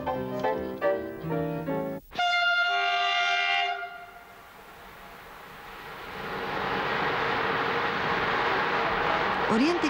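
The Orient Express special train pulls into Sighișoara station, sounding a loud multi-tone horn blast, followed by the rumble and hiss of the train rolling in that builds gradually in the background.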